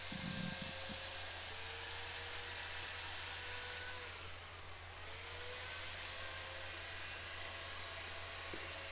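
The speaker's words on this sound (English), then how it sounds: "So I'll just work around the bowl and sand this and make everything nice and smooth." Steady high-pitched whine of a spinning sanding disc working on a mulberry wood bowl, continuous and close, with a slight dip in pitch midway.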